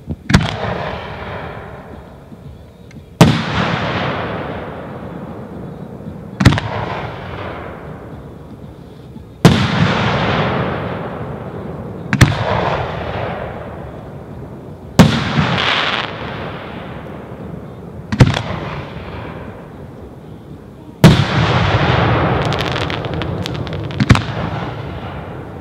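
4-inch Dominator Value assortment aerial shells from a 1.3 display launch in a steady series of about nine loud booming bursts, each followed by a long, fading crackling rumble.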